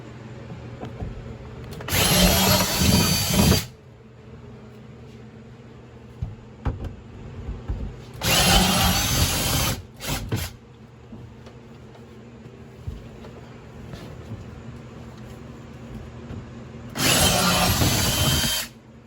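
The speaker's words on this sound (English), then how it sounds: "Get your 1/2-inch drill bit. We're gonna drill them out." A power drill with a 1/2-inch bit whines through plastic clips on a 2020 Honda Pioneer 700-4 in three separate bursts of a second or two each, with quiet pauses of handling noise between them.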